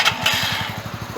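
A Mash Fifty motorcycle engine idles with a steady, rapid putter of regular pulses, close and moderately loud, with a brief higher noise burst near the start.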